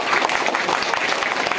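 Schoolchildren at an annual exam results and prize-giving ceremony burst into dense, energetic clapping, a short loud spell of crowd applause.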